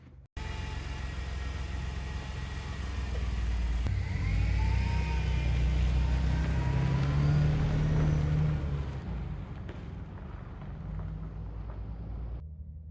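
A Ford car on a test drive, heard from inside as a steady engine hum and road rumble that builds as it accelerates, then eases off near the end; no talking.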